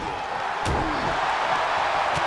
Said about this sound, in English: Fine uppercut. That'll cost some teeth.